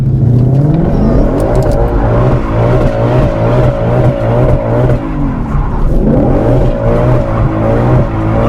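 A Ford Shelby GT500 at full throttle doing donuts at a car festival, its engine roaring loud and close with rising and falling revs and whining tires through the whole stretch.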